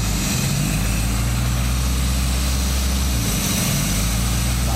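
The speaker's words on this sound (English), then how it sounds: "Do you hear what the car's doing? It's revving up on its own." A 1991 Suzuki Sidekick engine idling with a vacuum leak, a steady loud low rumble close by whose revs dip and rise on their own, with no talking.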